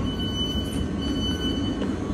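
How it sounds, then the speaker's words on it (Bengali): A train at a station platform gives a loud, steady low rumble with a faint high whine running through it, close and continuous with no voices. "এই যে ট্রেন আসছে, আমরা এই ট্রেনে যাব।"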